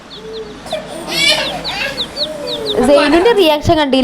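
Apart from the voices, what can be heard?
chick peeping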